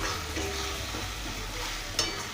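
Spice masala stir-fried with onions and peas in a pan sizzles continuously at close range, with scraping stirs and a brief clatter near the end.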